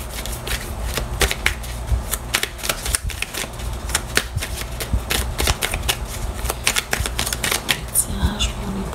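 Tarot cards are shuffled and cut by hand in a quick run of sharp riffling snaps and soft slaps close by, with someone speaking over them throughout.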